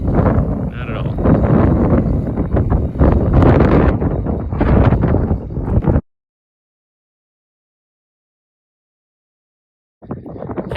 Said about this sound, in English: It's still really windy up here